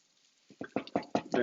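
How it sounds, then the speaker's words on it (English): Pieces of celery root are stirred in a pan, giving about five soft rhythmic scraping, sizzling pushes in quick succession, close and moderately quiet. "Give them a little stir."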